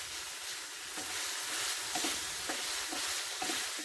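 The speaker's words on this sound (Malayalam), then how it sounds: "ഇതിൽ കിടന്ന് തന്നെ ഒന്ന് ഷാലോ ഫ്രൈ പോലെ ആയിക്കോട്ടെ" Garlic chicken shallow-frying in its own oil with no extra oil added: a continuous close sizzle broken by several scraping stirs of a spoon in the pan, with no voices.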